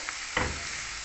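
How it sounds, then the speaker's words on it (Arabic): Aubergine cubes sizzling steadily in a frying pan, with a sharp burst of crackle as a utensil stirs them partway through, the frying hiss continuing close and even afterward. "ها هو الدنجال هنايا كيتحمر"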